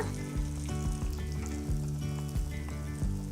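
Kara appam fry in hot oil until golden brown during Sankranti sweet-making, a constant sizzling hiss running beneath rhythmic background music.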